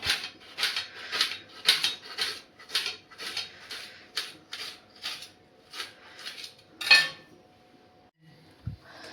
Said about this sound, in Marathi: चला आता हे कांदे सगळे लांब लांब मी कापून घेते